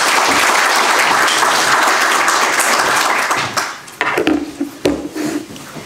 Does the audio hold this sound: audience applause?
yes